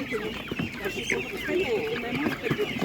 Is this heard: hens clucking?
yes